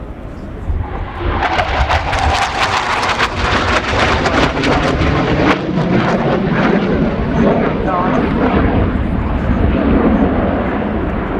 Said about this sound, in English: Danish aircraft in the lead